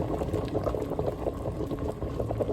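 Beef shanks pre-boil in a pot of water with a steady, close bubbling and rolling boil that continues evenly throughout, with no talking.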